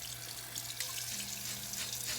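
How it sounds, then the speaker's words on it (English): Hot tap water runs steadily into a sink in a cast iron cleaning setting, a continuous hissing splash with no talking. "Get me some hot water."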